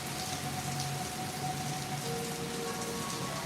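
Steady rain falls during a rain delay at a Seattle baseball game between Minnesota and Seattle, a dense, even patter of drops spread evenly across the whole stretch with no voices over it.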